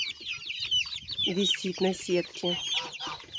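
Young chicks clucking and cheeping in a backyard coop area, several soft calls close by, with someone speaking briefly over them.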